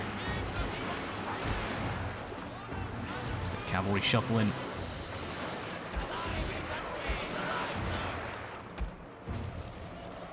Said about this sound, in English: Could really use some cannon fire.